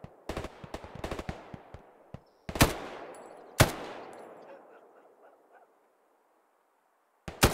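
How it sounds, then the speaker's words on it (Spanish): Gunfire rings out in the World War II shooter game Hell Let Loose: a quick cluster of shots, then a few sharp, isolated cracks with long echoing tails fading into silence. "Por ahí hubo disparos, vale, cuidado."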